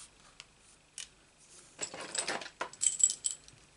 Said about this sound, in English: And with my scissors just snipped it